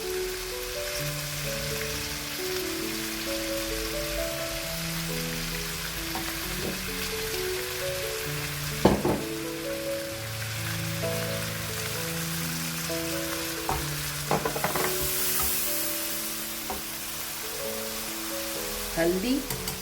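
Meat sizzles and fries in a pan with spices stirred through it, a continuous crackling hiss with occasional utensil knocks, while someone talks over it.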